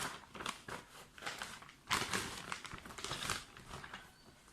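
A handgun slid into an anti-rust plastic storage bag, giving close, repeated crinkling and rustling of the plastic with a sharper crackle near the middle, no talk over it.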